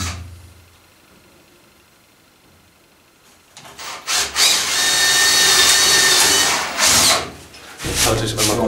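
A power drill bores through wooden track boards for a model railway helix, running as a loud sustained whir from the middle of the clip with a brief dip, after quiet handling at the start.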